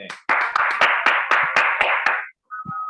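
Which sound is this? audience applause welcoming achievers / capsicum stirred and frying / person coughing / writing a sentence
audience applause welcoming achievers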